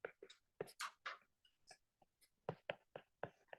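Marker or chalk scratching across a board during a trigonometry lesson, in short irregular strokes and taps, close and soft with pauses between marks.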